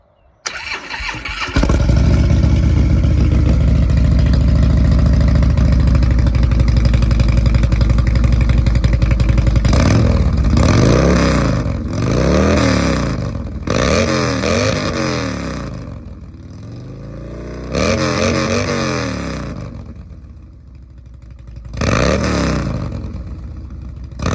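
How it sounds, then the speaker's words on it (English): A 2012 Harley-Davidson Road Glide Ultra fitted with a Vance & Hines Power Duals header and 4-inch tab BAM sticks with zombie baffles starts up and idles loudly, then gets several deep throttle blips with pauses between them. "this is the Vance & Hines power dual header and tab, 4-inch tab BAM sticks with zombie baffles"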